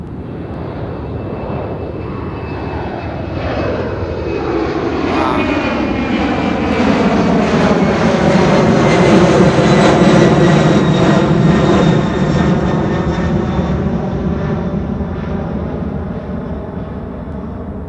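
A fixed-wing aircraft takes off from runway 28R at Fort Lauderdale airport, its engine roar swelling loud and close, peaking midway, then slowly fading with a falling whine as it climbs away.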